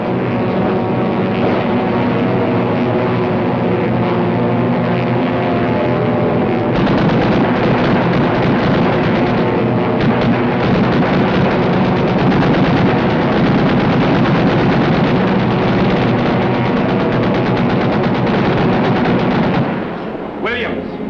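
An aircraft gunner fires a machine gun at a tow target during air-to-air gunnery, with a sustained loud rattle of fire over a constant engine roar, cutting off near the end.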